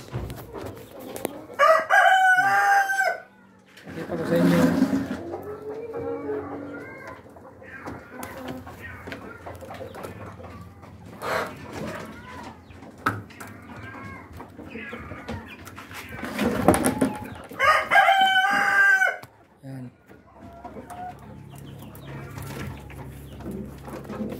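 Rhode Island Red breeder chickens in a farm coop: two loud, close rooster crows come roughly twelve seconds apart, with clucking and other fowl calls between them and a voice speaking at times.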